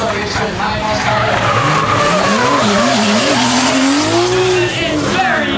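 A high-horsepower drift car at the King of Drift Asia 2015 event, accelerating hard through gears, engine note rising and wavering while tires skid and squeal, loud and continuous with a commentator talking over it.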